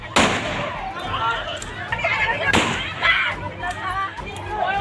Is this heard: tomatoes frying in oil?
no